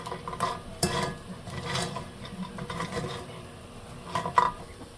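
Lentil bori fry over medium heat and are stirred in a pan, with a soft, steady sizzle under occasional scraping strokes and light clinks, close and fairly quiet.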